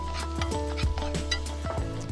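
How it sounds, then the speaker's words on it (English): Banana shallots, garlic, red chilli and coriander root stirred in olive oil in a pan, a spoon scraping in repeated strokes over a steady low sizzle and a faint tonal hum. "Give that a little stir."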